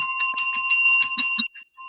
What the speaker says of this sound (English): I need a bell.